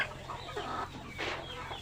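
Large chickens clucking inside a coop, soft, fairly distant murmuring calls in a few short bursts over a quiet background hum.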